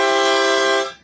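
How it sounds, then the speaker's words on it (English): A harmonica blown through several holes at once sounds a bright, buzzy chord that holds steadily for under a second and then stops, with no talking over it. "Multiple holes sounds like this,"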